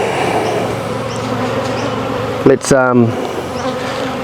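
Honey bees buzz steadily and densely at an opened beehive during a beekeeping inspection, a close, continuous drone. One spoken word cuts in briefly near the end.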